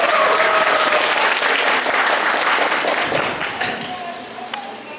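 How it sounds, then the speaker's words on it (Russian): An audience at a talk or seminar claps together in loud, sustained applause that gradually thins and fades over several seconds. "Похлопаем Татьяне."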